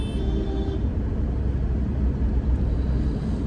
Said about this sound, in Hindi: पर फिर भी ट्रैफिक थोड़ा ज़्यादा है।